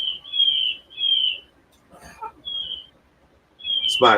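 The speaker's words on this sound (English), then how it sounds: "yeah, I know you hear the bird." A bird sings clear, high whistled phrases in repeated bursts with quiet gaps, heard through a security camera, followed by a brief rustle and a sharp sound at the end.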